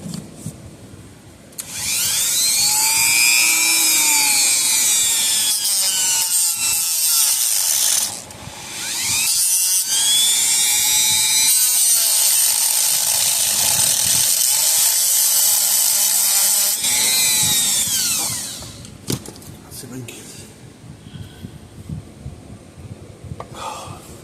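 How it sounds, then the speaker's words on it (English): A small Dremel rotary tool cuts into a screw head on an old PEL 100 electric fencer. Its loud, high whine rises and falls in pitch across three long bursts separated by brief pauses. "I got a little Dremel,"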